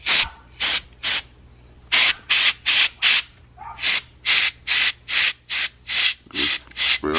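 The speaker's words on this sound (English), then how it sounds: "Just spray all that grime out." Cleaner sprays inside a .45 ACP pistol in a rapid run of short, hissing bursts, about twenty in quick succession with brief gaps, loud and close with no talk.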